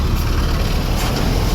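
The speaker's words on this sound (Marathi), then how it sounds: "बघा टेम्पो आलेला आहे" A small tempo truck arrives at a village near Vasai with a close, steady low engine rumble that carries on without a break and has no talking over it.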